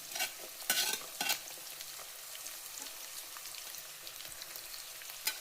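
Vegetables including beans and carrot frying in a pan, a soft crackling sizzle with a few loud stirring scrapes near the start, then quieter scattered crackles like light rain.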